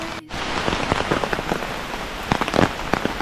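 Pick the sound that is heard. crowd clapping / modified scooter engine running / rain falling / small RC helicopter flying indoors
rain falling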